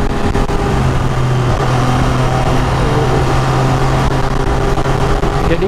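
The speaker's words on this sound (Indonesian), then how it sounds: "ini knalpotnya masih full original, jadi kalau kita nggak gas, kalian bisa dengerin nggak kalau suaranya halus banget" An MV Agusta F3 800 motorcycle engine with its original exhaust hums smoothly at steady low throttle, a constant close engine drone mixed with wind rush and no talking.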